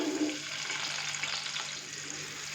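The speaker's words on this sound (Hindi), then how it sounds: "लाइट ब्राउन होने तक हम प्याज को फ्राई करेंगे" Finely chopped onion hits lightly heated oil for a Kashmiri chicken pulao, giving a brief, dense hiss of frying that stays fairly even and close throughout.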